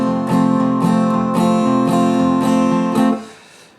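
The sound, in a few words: guitar rhythm strumming for a song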